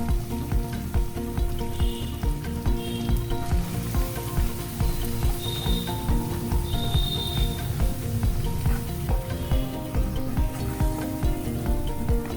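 Garlic and ginger paste fries steadily in hot oil for a Bengali brinjal curry, giving off a dense, even sizzle that stays loud and unbroken throughout.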